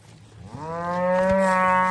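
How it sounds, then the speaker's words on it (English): A dairy cow in a field lets out a single long, loud moo that rises and holds steady, close by, with no talking. "I'm trying to get these cows out of the field and up to the barn so we can milk them."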